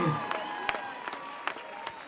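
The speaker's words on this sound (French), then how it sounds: "Donnez un applaudissement, s'il vous plaît." An audience claps during a public welcome-home event in Lille, sustained scattered applause at moderate distance with a few sharper claps standing out near the start.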